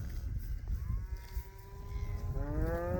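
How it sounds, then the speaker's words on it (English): A herd of cattle mooing in a snowy Missouri winter pasture, several drawn-out lows rising in pitch, moderately distant over a low rumbling background. "Still got a lot of cows coming from down in there"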